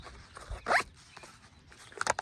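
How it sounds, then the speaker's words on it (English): A YKK zipper on a heavy-duty Maxpedition EDC pouch is pulled open in one quick, close rasp, followed by soft fabric rustling and a few small clicks. "big zipper pocket in the back"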